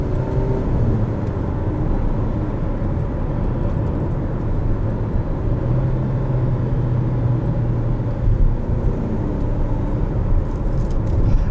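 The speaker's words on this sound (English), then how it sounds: "So right now I'm just slowing down based on engine braking." A 2016 Mitsubishi Outlander Sport's engine hums and rumbles steadily at a constant low drone, with road and wind noise, as the vehicle coasts and slows by engine braking without braking sounds.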